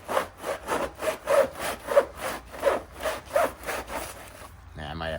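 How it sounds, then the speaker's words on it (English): Hand saw cutting through hardened expanding foam sealing a bald-faced hornet nest, about a dozen rasping back-and-forth strokes in steady rhythm, close and clear, ending in a brief scrape. "I might have to get the saws off for this one. That's gonna be an issue. We'll just saw it in half."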